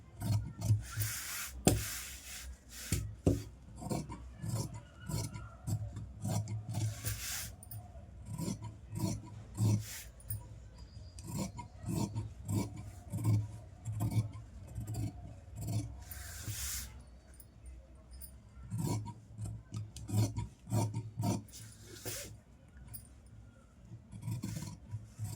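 Scissors snipping through blouse fabric in a sewing class, a run of quick, crisp cuts and rasping slides, close and fairly quiet, with irregular bursts and short pauses.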